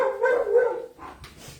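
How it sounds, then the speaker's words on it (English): Several household dogs bark in short excited bursts, slightly muffled as if from another room, fading after about a second into quieter scattered yips. "the dogs are welcoming you home"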